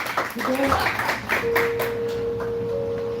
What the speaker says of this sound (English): clap it up like you ready for it. Clap it!